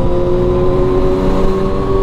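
Kawasaki ZX-6R sport bikes with Austin Racing exhausts droning loud and steady ahead on the road, a continuous high engine tone under heavy wind rush.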